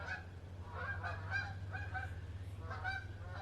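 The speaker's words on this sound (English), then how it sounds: "I turned on the camera and a flock of geese decided to fly over and an airplane." A flock of geese flies over outdoors, giving a series of honking calls in irregular bursts at moderate distance over a steady low rumble.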